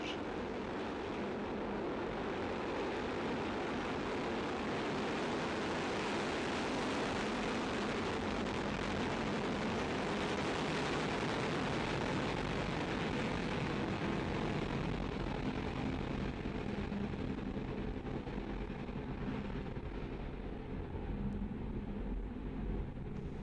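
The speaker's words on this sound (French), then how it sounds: "10, 9, 8, 7, 6, 5, 4, 3, 2, 1. Top. Et décollage." A rocket lifting off after a countdown produces a continuous, loud, rumbling roar that stays steady and dense for over twenty seconds, with no pauses.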